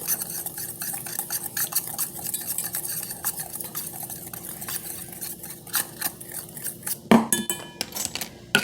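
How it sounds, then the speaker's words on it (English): Seasoning being stirred in a small jar, a busy run of quick clinks and scraping taps from a utensil against the container, close and fairly quiet, with one louder knock near the end. "I just mix it up really good"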